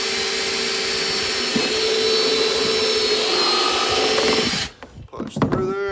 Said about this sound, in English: Just simple drill.